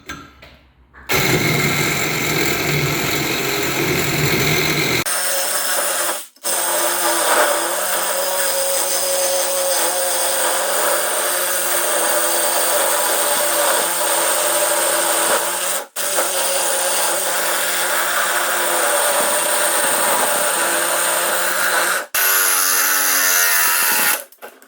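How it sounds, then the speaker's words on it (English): A power tool cuts metal pipe for a roll cage on an S10 truck in a home shop, giving a loud, sustained, grinding whine that runs for long stretches with a few brief stops. "let's get this pipe cut"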